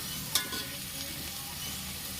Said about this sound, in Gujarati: આ રીતના આપણે હલાવતું જવાનું છે.